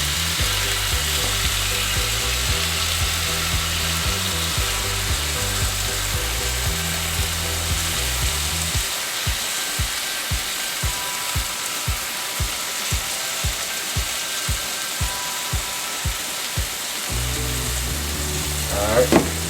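Cheesesteak meat frying on a hot griddle gives a steady, close sizzle throughout, with a run of quick rhythmic scraping or clicking taps in the middle stretch.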